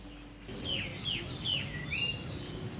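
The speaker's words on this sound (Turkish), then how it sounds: "Ayutaya onlarca kuş türüne ev sahipliği yapar." Birds chirp in Ayutthaya, Thailand, a few clear, rising calls repeating every half second or so, fairly faint over a soft outdoor background hum.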